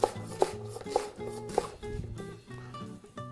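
Knife slicing an endive lengthwise on a cutting board, a series of crisp, close chopping taps in uneven rhythm, each with a short woody knock, fairly quiet with no talking.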